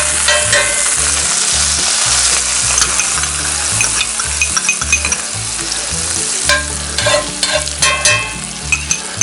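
Crappie fillets fry in about three tablespoons of melted butter, a loud close continuous sizzle and crackle with scattered pops, under a low rhythmic mechanical hum, with no talk.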